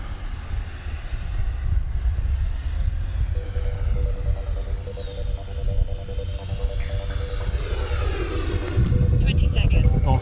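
An RC model jet's turbine whines steadily under a rumbling roar at half throttle on takeoff, its pitch sliding down and up as it passes, loud and close.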